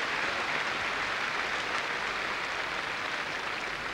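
Stadium crowd applauding a 400-metre runner at an athletics meet in Dresden's Heinz-Steyer-Stadion, a steady, dense wash of clapping that holds evenly throughout at moderate distance.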